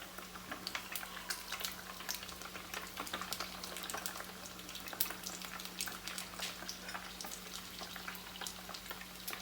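Pieces of eggless fried milk, Spanish leche frita, crisping in a pan, giving a steady dense sizzle with fine crackling pops throughout and a low steady hum beneath.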